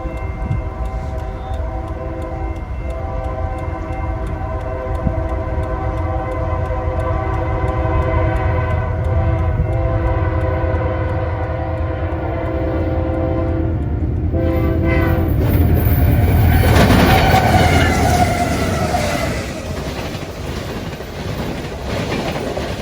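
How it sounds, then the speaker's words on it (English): A Canadian Pacific freight train rolls along the River Subdivision in Minnesota, its horn sounding in sustained chords over the steady rumble and rail clatter, the wheels swelling louder and closer near the end. "I snagged my first ever Canadian Pacific train on CP"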